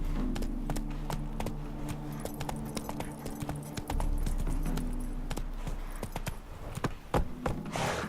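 Hooves of Geralt's horse Roach in The Witcher 3 clip-clopping steadily on a road, a brisk close rhythmic beat over a low droning ambience with occasional jangling tack.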